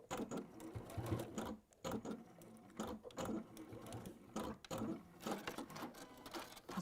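Domestic sewing machine stitching around a textile handle in short bursts, whirring runs broken by brief pauses as the fabric is turned, quiet and close with no speech.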